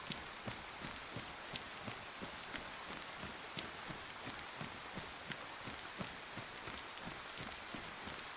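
Steady rain falling in the DayZ video game on the Livonia map, a dense continuous patter with regular soft drop ticks, fairly faint and even throughout with no talking.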